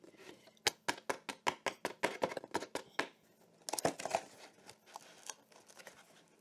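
Rapid series of sharp ripping and popping snaps as a perforated cardboard panel is torn out of a mushroom grow kit box, about a dozen quick tears followed by softer crinkling and scattered pops.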